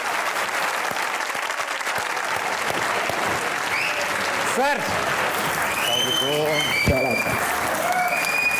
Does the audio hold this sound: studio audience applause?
yes